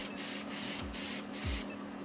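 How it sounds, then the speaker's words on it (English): Spray paint hissing onto a car in repeated bursts, several short sprays with brief pauses between, close and steady, with no talking. "now we can go spray the car"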